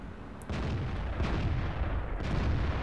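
A tank cannon fires in a World War II tank video game, a sudden loud boom followed by rumbling battle noise and a second blast, no voices.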